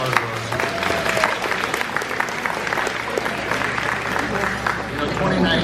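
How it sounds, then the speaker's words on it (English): Steady applause from a seated audience at a women's club holiday event, dense clapping from many hands lasting throughout, close and fairly loud. "Let's give her a big round of applause"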